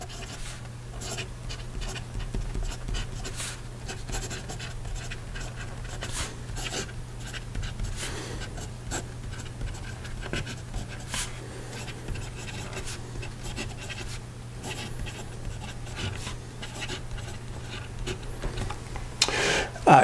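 A Danitrio Genkai fountain pen with a number 8 nib scratches and glides across paper in a steady stream of faint, close writing strokes, quiet and continuous with no talking.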